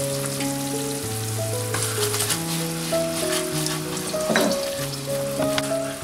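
Diced chicken stir-fries in a wok over low heat with sweet bean sauce and soy sauce, giving a steady, close sizzle with occasional stirring scrapes and bursts, while background music plays throughout.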